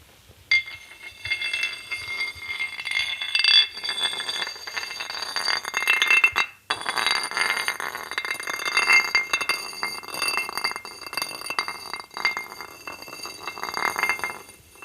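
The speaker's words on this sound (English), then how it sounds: "here we've got some basalt, lots of basalt on Rēkohu, and it's a beautiful sound" Basalt stones clink and tap against each other in quick, irregular knocks, bright and close, with scraping rattles between strikes.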